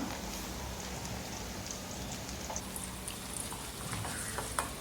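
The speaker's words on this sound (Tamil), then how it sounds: "இந்த மசாலாவை போட்டதுக்கப்புறமா இதை எண்ணெயிலே நல்லா வதக்கி விட்டுக்கோங்க" Ground masala paste sautéing in oil for a Tamil-style fish curry, a steady soft sizzle and crackle with faint stirring, close and continuous, no speech.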